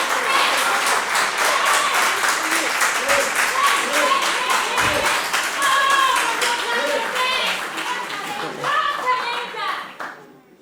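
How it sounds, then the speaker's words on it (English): Audience applause and clapping for a junior high school team at the end of a round in a televised school quiz contest, loud and sustained for about ten seconds before fading, with scattered voices and cheers mixed in. "A round of applause for them."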